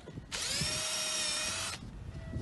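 A power drill whirs steadily for about a second and a half, loud and close, undoing the front bolt on a WOW saddle while the head plate is changed.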